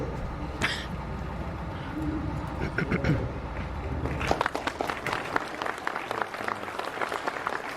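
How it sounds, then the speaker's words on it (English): An audience at an amateur radio convention talk claps after the presentation, a loose spread of hand claps that grows denser and more distinct in the second half. "Clapping."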